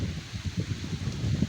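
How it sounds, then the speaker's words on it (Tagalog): Strong wind sweeps across an open outdoor spot during a pigeon race, a steady low rushing and buffeting on the microphone with short gusty surges and a faint rustle. "Sobrang lakas ng hangin no."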